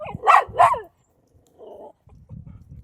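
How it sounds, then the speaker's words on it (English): A leashed dog gives two loud, close barks in quick succession during reactivity training, then falls quiet apart from a few soft, low sounds. "So y'all see, he barks, he looks at you."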